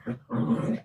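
Two dogs growl and whimper during play, a short low grumble followed by a longer throaty growl, close and fairly loud in the background of a room.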